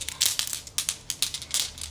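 Zodiac sign cards being shuffled make quick, repeated papery riffles and flicks close to the microphone in an uneven rhythm, with no speech.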